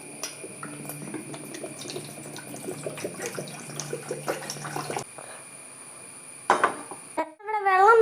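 Water pours into a cooking pot, one litre set aside for boiling, as the first step of a homemade hibiscus drink; a steady running trickle with clinks fills the first five seconds, then fades to quiet with a brief splash near the end.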